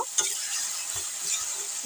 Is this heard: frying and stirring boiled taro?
yes